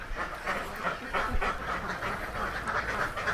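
Ducks quack around the feeding area of a duck farm in a busy, continuous chorus of overlapping calls at moderate distance, with no talk.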